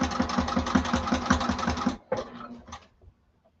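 A sewing machine stitches bag fabric in a fast, even run of mechanical clatter for about two seconds, then stops, followed by a few short bursts and silence.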